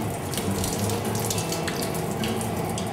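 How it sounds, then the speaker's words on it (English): Cold water pouring steadily from a faucet in a sink, a continuous close hissing splash at moderate loudness with no voices. "Our water comes out of our faucet at 55 degrees Fahrenheit"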